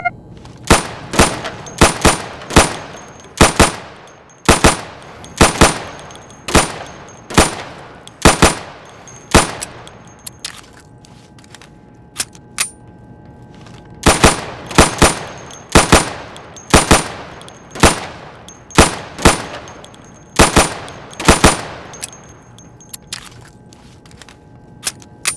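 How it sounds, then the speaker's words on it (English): Rapid gunshots hit targets at a firing booth during Insurgency training, sharp and loud. They come in two rhythmic volleys of a dozen or so evenly spaced shots, separated by a short pause. "Go over to the firing booth. Take down those targets as quickly as you can."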